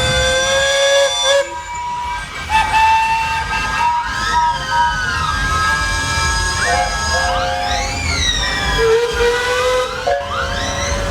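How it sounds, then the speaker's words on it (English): Steam traction engines of various sizes leave a rally arena, sounding loud overlapping whistles that rise, fall and answer one another over a hissing, rumbling background. "we have engines from large and small, leaving the arena and going back to their factory."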